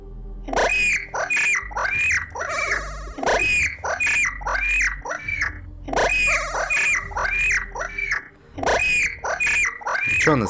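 A bird-shaped alarm in a Luntik video game lets out shrill, whistling squawks in quick repeated bursts, loud and close, with brief pauses between the groups of calls.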